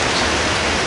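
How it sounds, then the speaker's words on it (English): Steady rain falls outside a workshop, a dense, even hiss that fills the whole moment with no breaks and no voices. "as you see, it is raining"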